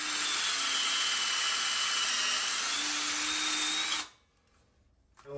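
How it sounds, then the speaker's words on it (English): A power drill with a masonry bit bores a hole into a cement floor for Tapcon screws, a loud continuous high whine for about four seconds that stops abruptly, leaving near silence. "I'm going to drill some holes and screw it into the floor using some Tapcons"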